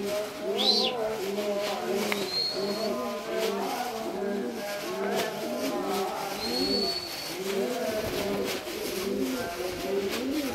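Several show pigeons of the Petra spectacular-pigeon club coo continuously in overlapping low, bubbling calls nearby, while occasional thin chirps rise above them on a misty day.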